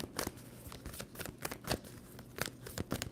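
Tarot cards are shuffled close up, a run of crisp flicking and riffling snaps in quick, uneven bursts with no talking.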